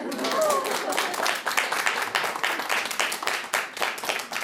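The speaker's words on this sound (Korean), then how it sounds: "그래서 박수 치는 거예요." An audience at a Buddhist meditation lecture claps together, a dense burst of many hands that swells early, then breaks into uneven rippling rounds. It stays fairly loud throughout.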